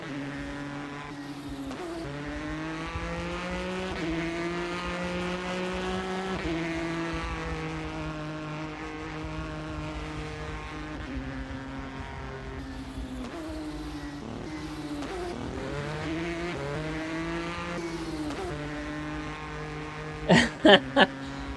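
Race cars in Second Life roar past with high revving engines shifting pitch, a continuous loud drone, ending with a few sharp squeals or clicks.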